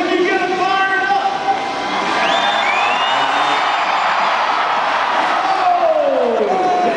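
A large crowd at a monster truck show cheers and whoops loudly and continuously, with shouting voices over the steady roar and a rising engine whine as a truck heads up the ramp to jump.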